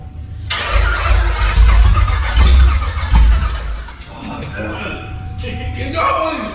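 A cammed 427 LSX V8 fires for the first time, catching with a loud lumpy rumble that surges in a few deep bursts before settling into a rough idle, with voices talking over it.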